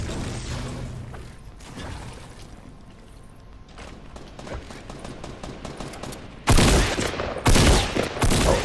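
Gunfire in Fortnite, with scattered shots and mechanical clatter early on, then loud rapid bursts of automatic fire close up toward the end.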